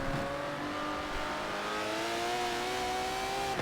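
Aston Martin DBR9 race cars lapping Watkins Glen, several engines droning at high revs with rising and falling pitch sweeps as cars accelerate, steady and moderately distant, no talk.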